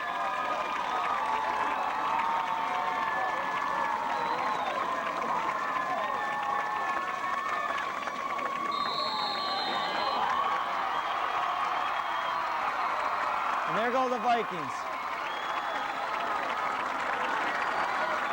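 A crowd at a high school football game between Haslett and DeWitt cheers and shouts as the game ends and fans pour onto the field, a sustained distant roar heard under an announcer's voice.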